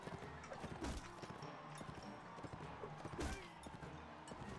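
A galloping horse in the medieval combat game Mount and Blade: Warband, quiet repeated hoofbeats with occasional clashing thuds amid a busy battle backdrop.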